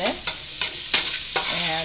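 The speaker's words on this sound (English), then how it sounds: "I just put the garlic in here. And I'm stirring it around until it's fragrant" Garlic sizzling in a hot pan with a steady hiss, broken by several scraping strokes of a spoon stirring it around, close and fairly loud, no talking.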